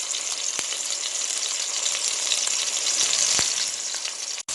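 Pork chops sear in a hot pot with a steady, close, bright sizzle and occasional sharp crackles, the frying continuing alone without talk.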